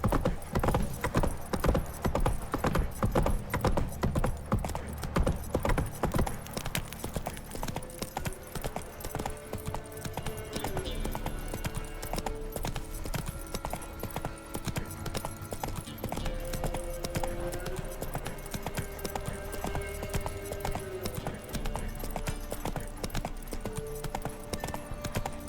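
Horse hooves clip-clop steadily in The Witcher 3: Wild Hunt, a continuous rhythmic gallop heard up close for the whole stretch, with faint game ambience and a brief voice near the end.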